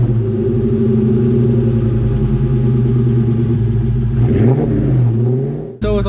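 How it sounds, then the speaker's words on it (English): Ford SVT Cobra with a straight-piped Bassani off-road X-pipe exhaust, loud and close on a cold start, its deep idle rumbling steadily before one quick throttle blip and a sharp cut-off. "we're gonna go ahead and hear the first cold start, I guess, start. Real quick, we're gonna go ahead and just give it one rev"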